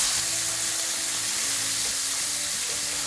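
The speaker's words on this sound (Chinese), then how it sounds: "好，现在我们把多这个油脂淋到这个牛排上面，翻面一下，我们再次翻面。" A steak sears loudly in a pan with butter while hot fat is spooned over it and it is flipped, a dense, close, unbroken sizzle.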